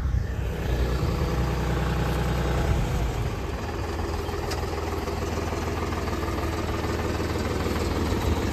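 A tractor engine drones steadily and loudly through a maize harvest, its low idle-like rumble vibrating continuously with no pauses and no talk over it.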